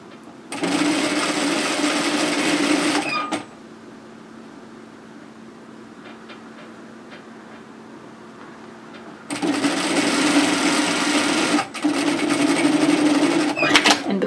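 Sewing machine running a tack stitch on a knit tee, two loud sustained bursts of steady stitching with a quiet pause between them, no talk.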